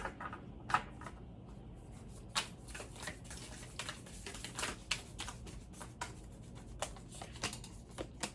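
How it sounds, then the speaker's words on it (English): Oracle cards being shuffled during a tarot reading, a rapid series of close, crisp riffling and slapping card sounds with irregular bursts and small pauses, no talking. "I'm going to pull an oracle card for you guys"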